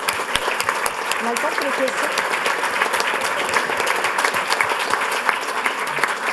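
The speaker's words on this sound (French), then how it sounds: "je pense qu'on peut vous applaudir chaleureusement" Warm, sustained applause from a roundtable audience thanking a CEO panelist at a women's careers event, a dense steady wash of many hands clapping throughout, with a voice speaking briefly over it.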